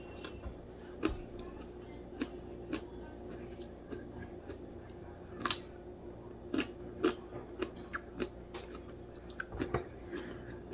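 Crisp, crunchy bites and chewing of a fresh homegrown cucumber, close and quiet, a scattered series of sharp snaps and clicks spread over several seconds with no talking.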